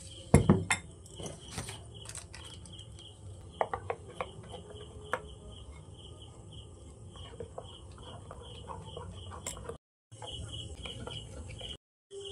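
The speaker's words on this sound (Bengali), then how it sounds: "এবার আমি হলুদটাকে মেশাবো" Yellow food colour being mixed into boondi batter in a bowl produces soft, irregular clinks and scrapes of a utensil against the bowl, quiet and close, with a few sharper taps early on.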